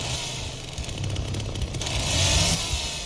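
Chainsaw in The Texas Chain Saw Massacre video game revving loudly as the killer roams a house, a gritty motor drone that climbs and swells toward the end.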